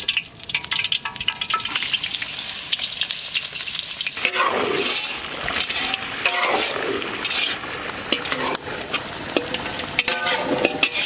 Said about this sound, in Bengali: সর্ষের তেল দিয়ে এখন বেরেস্তা ভাজবো।